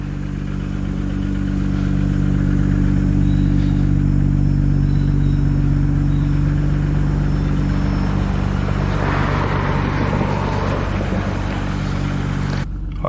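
Car engine running inside the cabin of a car with a manual clutch, a loud steady low drone with strong harmonics that swells slightly in the middle, with no voices over it.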